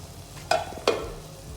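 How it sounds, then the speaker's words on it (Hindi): Spoon stirring ground turmeric, Kashmiri chilli and coriander in a hot pan for chicken kabab karahi: two quick scraping strokes with a soft sizzle, close up and without speech. "अब इन सब चीज़ों को मैं अच्छी तरह मिक्स करूँगी"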